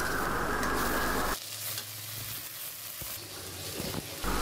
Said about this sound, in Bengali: এভাবে মশলাগুলো কিছুক্ষণ ভেজে নেব যেন মশলার কাঁচা গন্ধটা না থাকে